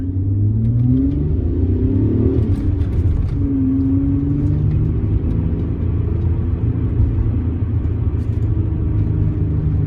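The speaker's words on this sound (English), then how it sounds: "now we're gonna go underneath the bridge here, and it's getting really bumpy." A 1996 Ford Probe GT driving on city streets: a loud, close, steady engine rumble with a rising rev early on and a persistent whir, no voices.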